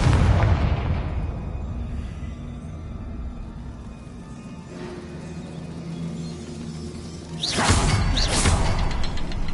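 A loud Confringo fire spell explodes in Hogwarts Legacy, opening with a deep booming blast that rumbles and fades, then a second whooshing burst erupts near the end.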